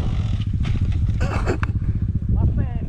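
Motorcycle revving hard as it climbs a steep, extreme hill at Samahani, Aceh Besar, engine droning steadily and loudly throughout with clattering, while people shout and talk over it.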